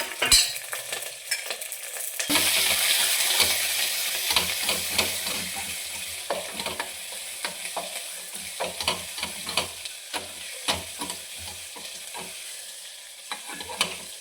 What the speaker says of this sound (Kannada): ಬೆಚ್ಚಿ ಇಟ್ಕೊಂಡಿರೋಂಥ ಬೆಳ್ಳುಳ್ಳಿ ಆಮೇಲೆ ಈರುಳ್ಳಿ ಬೆಲ್ಲ ಹಾಕ್ಬಿಟ್ಟು